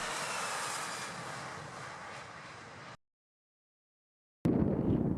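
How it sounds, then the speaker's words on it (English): Military transport aircraft on landing approach, a broad steady engine roar that drops out into silence partway through and then returns loud, heard alone with no voices. "See the military transport aircraft. It is in the landing approach."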